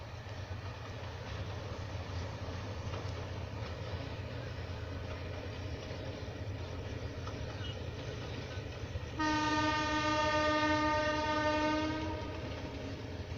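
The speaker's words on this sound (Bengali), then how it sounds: "অপর একটি রেল লাইন দিয়ে ট্রেন যাচ্ছে পূর্ব পাশের" A train passes on a nearby railway line beside a wetland, a steady low rumble of wheels and carriages with a long, loud horn blast near the end, heard alone.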